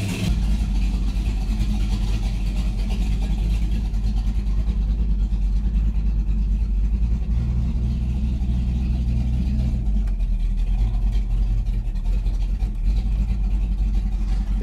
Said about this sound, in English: Let's take it out and roast the tires.